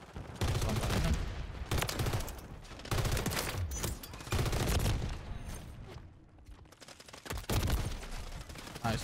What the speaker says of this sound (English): I spawned into being shot at.